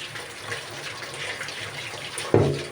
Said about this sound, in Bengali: এখানে আমি চালটাকে ভালোভাবে ধুয়ে নিচ্ছি